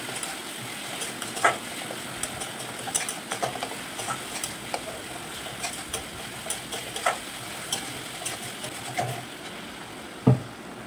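A spice paste with tomato and salt is stirred and fried in a pan, giving a soft continuous sizzle with scattered light scrapes and taps of the spoon against the pan.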